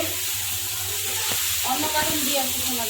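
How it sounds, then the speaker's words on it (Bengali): Chicken kosha sizzles loudly in a hot pan while being stirred, a continuous frying hiss with occasional scraping of the spoon close up. "কি রান্না হচ্ছে চিকেন কষা"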